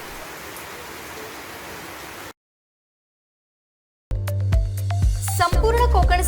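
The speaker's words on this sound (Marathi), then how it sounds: "कोकणसह मराठवाड्यात जोरदार पावसानं सोमवारपासूनच हजेरी लावली आहे" Heavy monsoon rain pours in the Konkan region as a steady, dense hiss for about two seconds, then cuts to silence and gives way to louder music.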